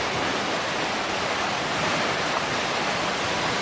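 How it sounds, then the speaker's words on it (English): A waterfall in Pucon, Chile roars close by, a loud, steady broadband rush of falling water that never lets up, with no voices over it. "The best way to enjoy a waterfall is to get in."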